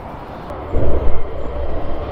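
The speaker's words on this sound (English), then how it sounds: "Can hear another tram." A tram passes on a line near Chain Lane Bridge by Dunkirk Industrial Estate in Nottingham, a broad low rumble swelling and pulsing close by over steady outdoor background noise.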